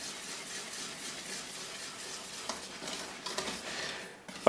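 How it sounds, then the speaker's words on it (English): A spoon stirring thickening cinnamon flour porridge in a pot makes a steady, soft scraping and bubbling texture, close and continuous, with a few sharper knocks near the end. "Keep stirring."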